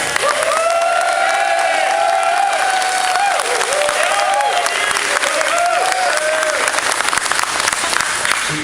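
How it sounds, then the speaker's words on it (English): Audience applause at a college commencement ceremony, dense sustained clapping from a large crowd in a hall, with voices and light cheering mixed in. "give her a big round of applause, Mary Cusack."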